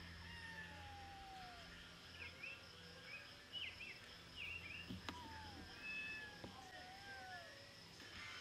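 Faint, plaintive meows from a kitten stuck up a tall tree repeat a few times from a distance against quiet outdoor background noise, with birds chirping softly.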